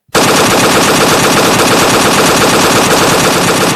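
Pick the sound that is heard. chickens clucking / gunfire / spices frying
gunfire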